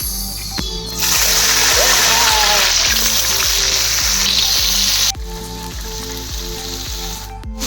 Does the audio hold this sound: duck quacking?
no